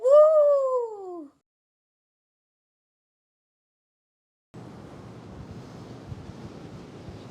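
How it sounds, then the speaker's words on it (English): Strong wind buffets the microphone outdoors by the ocean, a rough, steady rumbling roar that starts after a brief vocal exclamation and a stretch of silence. "Oh, it's windy."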